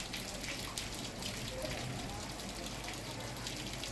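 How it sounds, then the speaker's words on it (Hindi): Rain falls across Kedarnath Dham in Rudraprayag district, a steady wash of broadband patter and water noise that holds evenly throughout, with a faint murmur of voices beneath it. "मौसम विभाग की भविष्यवाणी के बाद केदारनाथ धाम सहित संपूर्ण रुद्रप्रयाग जनपद में बारिश हो रही है"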